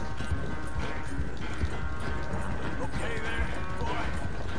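Hooves of a large, slightly slow horse galloping in the video game Red Dead Redemption 2, a steady clip-clop running continuously and fairly close under a dense game soundscape, with voices talking over it.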